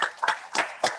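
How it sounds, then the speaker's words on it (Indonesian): Scattered hand claps at an online nutrition seminar, four separate close claps spaced out over about a second rather than a full crowd ovation. "Tepuk tangan semuanya."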